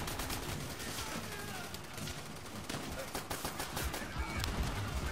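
Dense gunfire fills a World at War battle scene, with a rapid crackle of rifle and machine-gun shots and occasional heavier blasts, running continuously at moderate loudness throughout.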